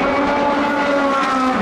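A Lamborghini hypercar race engine screaming at high revs, loud and close, with a steady harmonic wail that climbs slightly in pitch and sustains without pause.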